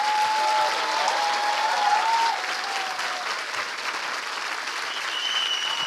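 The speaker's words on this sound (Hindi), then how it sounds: "आइए प्रभु के लिए एक अच्छी ताली बजाएं।" A church congregation applauds steadily at a Christian worship gathering, a dense wash of clapping that is strongest for the first couple of seconds and then carries on slightly softer to the end, with no talk over it.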